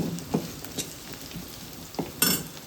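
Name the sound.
whole spices (clove, cinnamon, bay leaf) frying with onions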